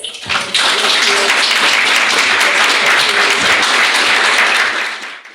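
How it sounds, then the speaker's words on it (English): Applause from a meeting audience for Alex, who has just given a branding talk: dense, steady clapping from many hands that swells in quickly, holds loud and even for about five seconds, then tapers off. "So a big round of applause for Alex."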